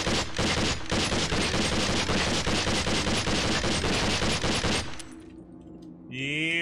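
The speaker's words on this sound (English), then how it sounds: "Set your M4 to full auto. Try to fire several short control." An M4 rifle fires on full auto in SWAT 4, a dense, loud, rapid burst of gunfire that runs for about five seconds, then stops and gives way to a quieter tail and a short rising electronic tone.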